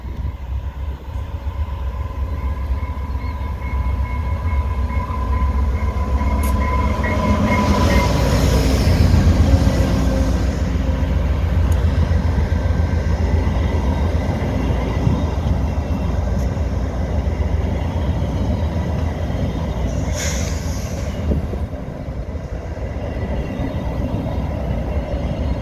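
VIA Rail passenger train 645, westbound at Fallowfield, rumbles past at close range, a steady heavy roll of wheels and carriages with a brief high squeal and clatter, no talking.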